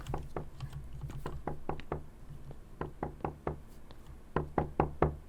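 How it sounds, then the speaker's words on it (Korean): Repeated knocking on a door in a horror video game, sharp raps in uneven bursts of two to four, with pauses between groups and a final quick cluster. "노크 그만하세요"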